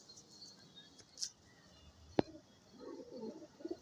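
A brown female pigeon held in the hand gives soft low coos, faint and close, with a sharp click partway through and quiet murmuring rustles afterward.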